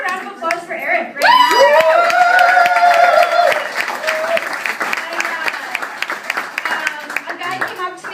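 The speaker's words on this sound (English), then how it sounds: "How about a round of applause for Eric right now?" Comedy club audience applauding at a stand-up set, a loud burst of clapping and cheering that swells quickly and holds, with voices calling out over it before it thins toward the end.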